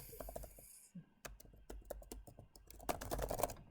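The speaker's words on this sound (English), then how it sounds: "I don't want you to wait around while I get my typing perfect" Quick, irregular clicks of typing on a computer keyboard, close and fairly quiet, with bursts of keystrokes and brief pauses.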